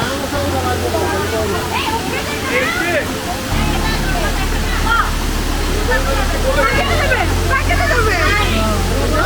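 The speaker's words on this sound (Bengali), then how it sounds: "এই যে একটি ঝর্ণায় চলে আসলাম" Steady, loud rush of a waterfall reached on a trek near Tanguar Haor, a continuous roar with voices talking over it and a low hum underneath.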